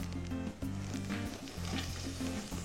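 Chopped onions and carrots fry in a heated pan with a tablespoon of olive oil and a tablespoon of butter. A quiet, steady sizzle carries on without a break.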